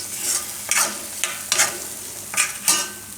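Chopped tomato is mixed into a garlic and carrot pickle with a spoon. Five or six rhythmic scraping strokes ring against the bowl, loud and close, and no one talks.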